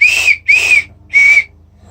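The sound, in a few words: plastic survival kit whistle being blown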